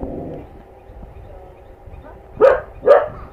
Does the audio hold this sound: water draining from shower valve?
no